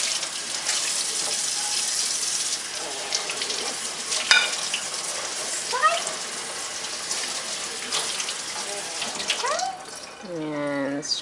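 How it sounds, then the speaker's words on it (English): Tap water splashes and runs into a sink while dirty dishes are rinsed, a continuous close spray with scattered clinks and a voice chiming in near the end. "Put some water on it to rinse all the dirt out."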